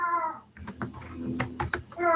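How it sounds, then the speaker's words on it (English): A house cat meows twice nearby, one drawn-out cry at the start and another at the end, with quick computer keyboard typing clicking in between. "you can hear my cat"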